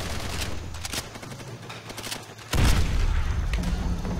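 Grenade blast in Call of Duty: World at War amid gunfire, a sudden loud booming burst midway that leaves a heavy low rumble after scattered shots.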